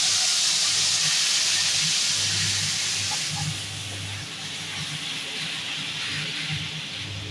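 Vegetables for Bengali shukto sizzle in hot mustard oil with scorched white mustard seeds, a loud steady hiss that eases slightly partway through and continues without talk.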